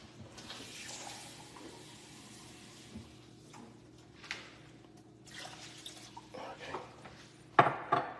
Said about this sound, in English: Just add some more water to this.